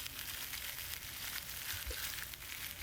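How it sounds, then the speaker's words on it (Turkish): Tomatoes frying lightly in a pan give a steady, soft sizzle with faint crackles throughout, close by and fairly quiet, with no talking. "Her iki tarafını da öncelikle biraz kızartıyorum hafif."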